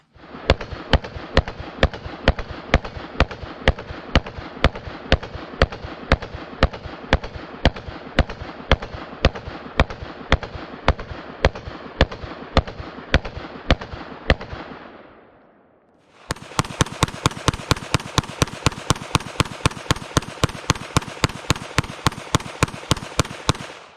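A Kel-Tec PMR 30 pistol fires rapid shots, about thirty sharp reports in a fast steady rhythm, a brief pause, then another quick string of shots, loud and close with no talk.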